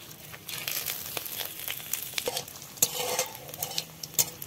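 Dried red chilli, whole cardamom, cinnamon, cloves, cumin and bay leaves crackle in hot oil, with a close, steady sizzle and spitting broken by occasional stirring scrapes.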